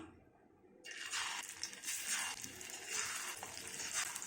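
Green plantain slices dropped into hot oil on a tawa: after a brief quiet start, a sudden close sizzle rises and keeps crackling steadily, with light stirring scrapes and no talk.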